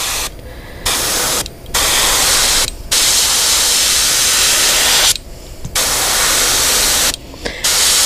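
An aerosol can sprays paint onto a monarch butterfly design in long, loud, close hissing bursts separated by brief pauses.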